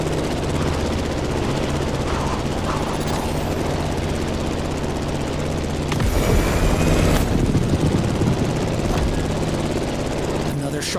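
A plane engine drones in the racing video game The Crew Motorfest, a loud steady buzzing hum that shifts and swells midway through as the aircraft banks through sharp turns.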